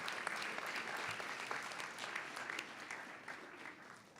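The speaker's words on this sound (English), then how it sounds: "a round of applause for our honorees today" Audience applause for honorees at an annual convocation honoring excellence, a steady broadband wash of many hands clapping that holds evenly throughout and tapers slightly at the end, with no talk over it.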